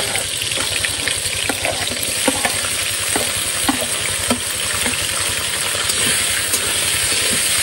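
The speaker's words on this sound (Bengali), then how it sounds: "তেল গরম হয়ে গেছে, এবার প্রথমে দেবো গোটা জিরা, টমেটো, পেঁয়াজ, আদা, রসুন, কাঁচা লঙ্কা।" Whole cumin, tomato, onion, ginger, garlic and green chili fry in hot oil, giving a loud, steady sizzle with a low rhythmic throb underneath and faint stirring scrapes throughout.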